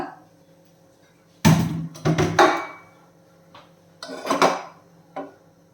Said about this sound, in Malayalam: ഇതുപോലൊരു പാൻ ചൂടാക്കാൻ വെച്ചിട്ട് നമുക്ക് ഒരു ടേബിൾ സ്പൂൺ എണ്ണ ഒഴിച്ചു കൊടുക്കാം